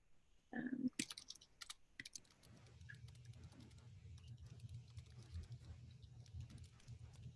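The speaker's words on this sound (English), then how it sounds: "Let me type this to Jenny" A short burst of computer keyboard typing, a few quick clicks near the start, followed by a low steady hum with faint background noise.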